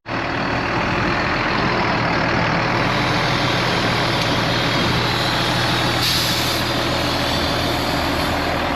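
Heavy truck idling loud and close while unloading in a soft-bottomed farm field, its engine droning steadily with a sharp hiss of air brakes releasing midway.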